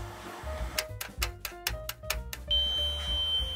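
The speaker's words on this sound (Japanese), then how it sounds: "タイマーなりました" Electronic kitchen oven timer beeping during gâteau au chocolat baking: a rapid run of about eight sharp, evenly spaced tonal beeps, loud and close, followed by a steady high electronic tone, with kitchen background hum.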